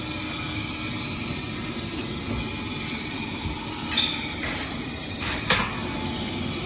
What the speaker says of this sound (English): at least the inducer motor's on now